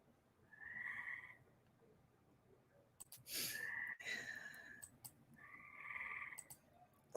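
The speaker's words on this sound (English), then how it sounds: "Can you hear my tree frogs?" Tree frogs call in faint, quiet bursts of chirping croaks, three separate phrases with short pauses between, heard alone without talk.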